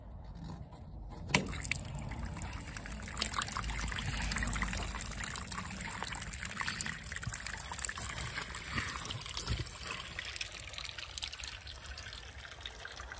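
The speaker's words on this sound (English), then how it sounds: "I'm going to turn off the water supply and drain it down." Water draining from a domestic water tank, a continuous trickling and gurgling flow with small splashy bursts, steady and fairly close, with no talk.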